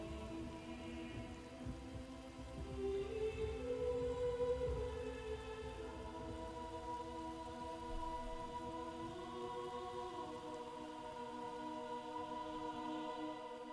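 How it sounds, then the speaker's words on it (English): Rain falls steadily in the video game Shadow of the Colossus, a soft, even wash under swelling sustained music, with a faint low rumble like distant thunder. "And the rain!"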